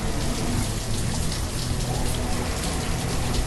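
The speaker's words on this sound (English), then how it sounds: "We do have some rain." Steady rain falls in the village-building game Banished, a dense, even hiss of drops on surfaces that continues without a break and with no voices over it.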